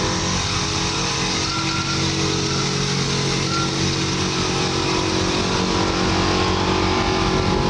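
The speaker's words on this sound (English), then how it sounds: "you can hear the compressor in the back there being very noisy" An air suspension compressor on a 1962 Chevrolet Impala runs continuously with a loud, steady mechanical drone and hum that holds without pause from start to end.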